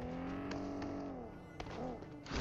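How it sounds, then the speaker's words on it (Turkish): A McLaren car drives in PUBG Mobile on the Erangel map, its engine note rising and falling in a revving whine with a few brief sharp clicks, fairly faint under the game's ambience. "McLaren gidiyor."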